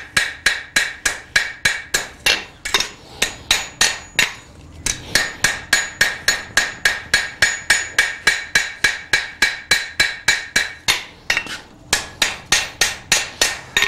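A blacksmith hammers a leaf with a straight peen hammer at the Moffett Forge in Frying Pan Park. Loud, close, steady hammer blows ring out about three per second, broken by two short pauses.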